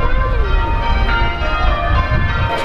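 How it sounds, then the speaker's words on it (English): Church bells ring outdoors in Boston, a sustained resonant peal that carries steadily through the whole moment over faint street background. "The bells started again, so now we're going back again."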